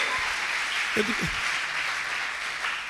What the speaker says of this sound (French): Bien aimé, est-ce qu'on peut l'acclamer?